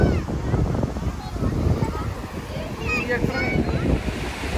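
Surf and wind at Vadarevu beach in Chirala roll on steadily with a constant broadband roar and buffeting wind noise, while voices chatter faintly in the background.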